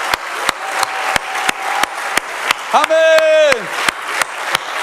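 A church congregation applauding in steady rhythmic unison during a service, loud and close, while a voice shouts out briefly over the claps.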